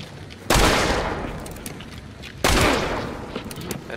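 Two sharp, loud pistol shots crack out about two seconds apart in the Hunt: Showdown video game, each one followed by a short fading echo.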